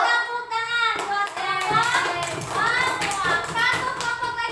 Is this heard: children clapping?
yes